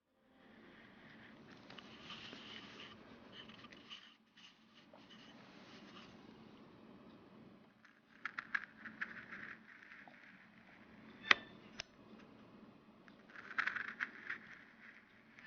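A chip carving knife making slicing cuts into a wooden quilt square blank, heard as faint, close scraping and scratching strokes with a few sharper clicks, quiet and steady throughout.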